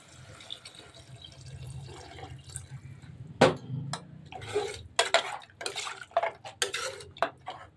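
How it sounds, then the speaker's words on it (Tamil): Water poured into a pressure cooker pan of sautéed biryani base, making clattering splashes and metallic knocks that grow louder and more irregular toward the end. "இப்போ இதில் தண்ணி ஊற்றிக்கலாம்."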